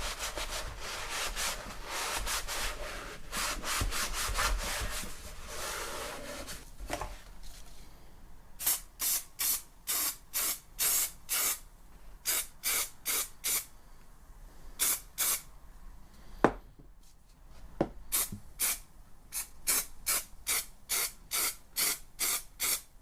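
3M adhesive sprayed onto a Jaguar XK8 door card: a long continuous aerosol hiss at first, then a steady series of short, sharp spray bursts with brief pauses, close and fairly loud, no talking.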